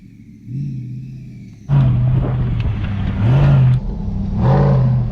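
A huge off-road truck, a Hennessey Mammoth, rumbles at low idle and then revs hard in repeated surges, its deep engine roar loud and close between throttle blips.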